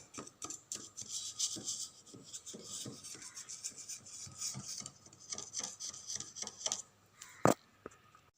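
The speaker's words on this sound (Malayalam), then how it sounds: "ഇതുപോലൊരു കത്തി ഉപയോഗിച്ച് വട്ടയപ്പത്തിൻ്റെ സൈഡ് ഒന്ന് ഇളക്കി കൊടുക്കാം" Knife working around the sides of a soft steamed vattayappam rice cake in its pan, giving close, light scraping and rubbing strokes in an uneven rhythm with one sharper knock near the end.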